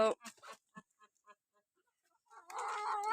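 A few hens cluck in short, scattered bursts, fairly quiet, while being fed cabbage leaves, before a louder rustling, scraping noise takes over near the end.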